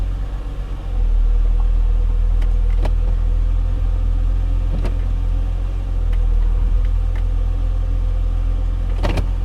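A 2004 Chrysler engine with a Mercedes 722.6 automatic transmission runs steadily at idle, a loud, continuous low rumble with a few faint clicks over it.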